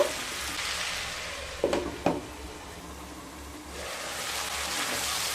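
Diced bottle gourd and potato are stirred in a pan, giving a soft steady sizzle with two quick scraping clatters of a spoon midway, followed by a gentle hissing simmer; no voice is heard.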